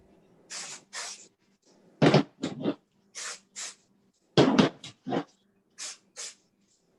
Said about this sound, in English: be careful where you spray the stuff.